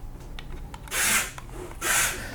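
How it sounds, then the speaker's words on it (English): Screws being driven tight on a Tamiya Wild One buggy kit, two short whirring bursts from a power driver, close and clear, separated by quiet handling noise. "then we'll start screwing it up tight"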